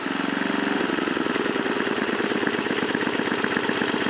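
Tecumseh engine on a 1978 John Deere tractor runs steadily up close, a loud continuous mid-pitched idle with a rapid firing pulse that changes character slightly early on as the loose throttle cable lets it surge.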